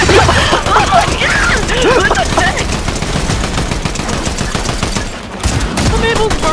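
Rapid automatic gunfire in the video game Fortnite, sustained bursts crackling throughout, loud and close under excited talk.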